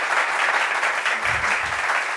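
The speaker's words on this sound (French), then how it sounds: "Applaudissements pour Fabrice Dessa, s'il vous plaît." Dense, steady applause from a studio audience welcoming guest Fabrice Dessa onto a French-language television talk-show set. The clapping is close and sustained throughout, with no voices over it.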